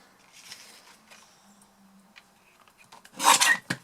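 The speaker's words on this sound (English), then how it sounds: "I love this little trimmer, it's so handy." A small paper trimmer slices cardstock into strips for a fancy fold box, heard as a soft close rasping scrape near the end, preceded by quiet handling and rustling.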